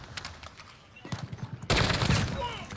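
Rapid gunfire from a Call of Duty video game, a burst of fast shots that gives way to a loud, dense stretch of continuous firing and blasts, close and aggressive, with a voice talking faintly underneath.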